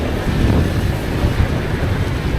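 Steady low rumbling wind buffeting the microphone in cold weather on the road to Sagada, continuous and fairly loud throughout with no voices.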